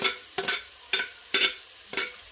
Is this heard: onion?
yes